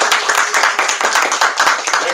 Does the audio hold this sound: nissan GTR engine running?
no